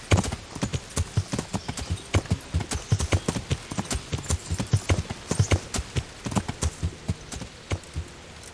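Horse hooves clip-clop steadily in the medieval game Kingdom Come: Deliverance, a close, brisk rhythmic stream of hoof strikes on the ground running the whole way through.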